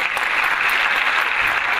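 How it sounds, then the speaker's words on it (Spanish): An audience at a Social Media Day talk claps steadily in a brief, even burst of applause welcoming a speaker, fairly loud with no voices. "recibamos a Pablo Vuela con un fuerte aplauso"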